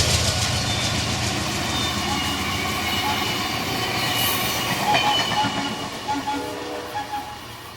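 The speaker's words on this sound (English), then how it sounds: "Amtrak's Pennsylvanian toots as it passes the Strasburg steam engine" An Amtrak Pennsylvanian passenger train passes close by, a loud steady roar of wheels and rail noise with a brief horn toot, fading slightly toward the end.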